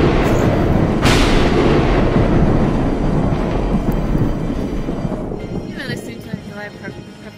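Loud, chaotic lightning strikes in the video game VRChat, a sharp crack near the start followed by a dense, sustained rumbling roar that slowly fades, with a voice speaking over it.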